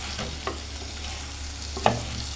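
Crabs being stirred through a masala curry in a pan for crab pulusu, a quiet steady sizzle broken by a couple of soft scraping stirs, one sharper clack near the end, with no talking.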